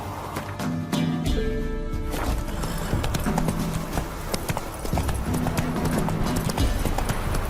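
Horse hooves clip-clopping at a steady gallop in The Witcher 3, rhythmic and close, with an occasional whinny and game music tones running underneath.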